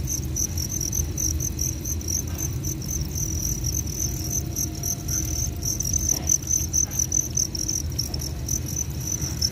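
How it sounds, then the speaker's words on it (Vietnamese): Large black Thai crickets kept in a breeding setup chirp continuously in a dense, high, rapidly pulsing chorus, steady and close throughout with no talk. "Dế này dế Thái đen gì đó, bự con lắm."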